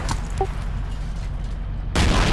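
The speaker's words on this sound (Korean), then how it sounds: "탱크 쏜다, 탱크 쏜다" A tank cannon fires in the video game Project Reality: a short blast at the start, a lull, then a second heavy boom that rumbles loudly to the end.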